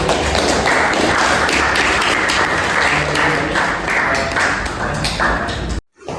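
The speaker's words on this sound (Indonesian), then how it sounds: "Beri tepuk tangan dulu kelompok 1." Steady, dense applause from a classroom crowd clapping for the first student group, loud and continuous for nearly six seconds before cutting off abruptly.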